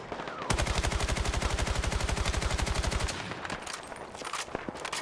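A sustained automatic burst fired from the hip at a wall in Battlefield 6, with crisp, rapid, regularly spaced reports lasting about two and a half seconds before giving way to quieter scattered impacts and clatter.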